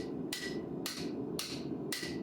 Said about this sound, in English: Forging tip of Damascus.